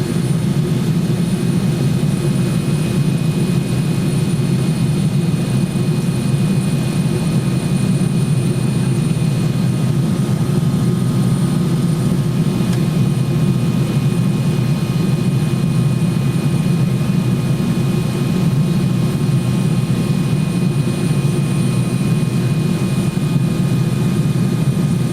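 Continental airliner engines on a 1990 flight to London's Gatwick, heard from inside the cabin: a constant loud low roar with a steady whine on top that runs unbroken throughout, with no voices.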